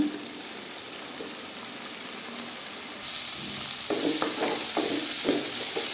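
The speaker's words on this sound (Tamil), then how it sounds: "கத்திரிக்காய் கொஞ்சம் நல்லா கொஞ்ச நேரம் வதக்கிக்கலாங்க" Eggplant pieces sautéing in a pan for a tamarind kara kuzhambu with drumstick, a steady sizzle that grows louder partway through, with clinks and scrapes of stirring near the end.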